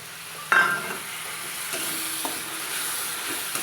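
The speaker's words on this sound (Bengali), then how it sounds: "যতক্ষণ না লাল লাল করে ভাজানো হচ্ছে ততক্ষণ নাড়তেই থাকবো" Turmeric, cumin and ground spices fry in hot oil while being stirred, giving a constant sizzle with a sharp clank near the start and a few lighter scraping knocks after.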